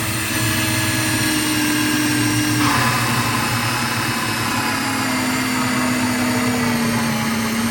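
Hole saw bit in a hand drill cutting through 20mm plywood, a loud continuous whine and grind with one brief pitch shift partway through, heard alone with no talk.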